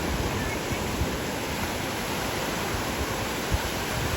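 Ocean waves wash steadily onto an Australian beach, a continuous broad surf roar with no distinct breaks, filling the whole stretch without speech.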